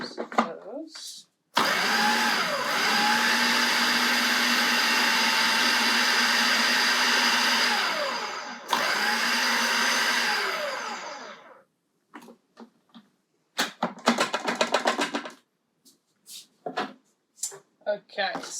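A food processor minces spices and herbs in a loud, steady motor whir for a few seconds, stops briefly and starts again, then ends in short pulses and clatter.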